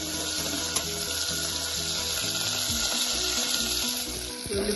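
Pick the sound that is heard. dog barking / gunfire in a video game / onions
onions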